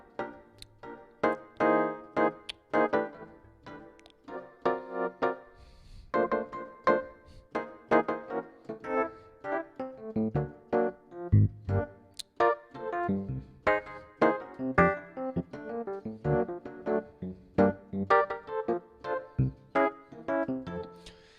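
Solo piano comping with upper structure triads in a straight feel, rhythmic chord stabs and short phrases played steadily, close and clear with no voices.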